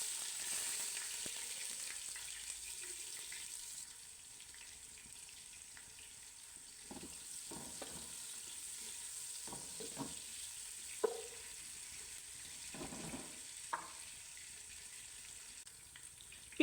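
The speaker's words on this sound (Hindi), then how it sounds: "प्याज को हम गोल्डन ब्राउन करेंगे।" Onions sizzle and fry steadily in hot oil for a leftover pulao, a continuous close crackling hiss with occasional soft stirring clicks and scrapes in the pan.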